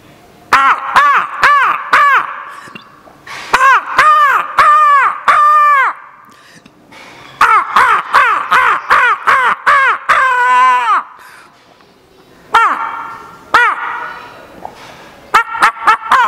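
A voice imitates crow caws, giving loud, close, harsh caw-caw calls in quick repeated bursts with short pauses between the groups.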